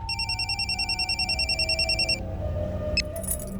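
Telephone ringing with a rapid electronic trill, a steady pulsing ring in regular bursts that stops partway, followed by low room noise and a brief click.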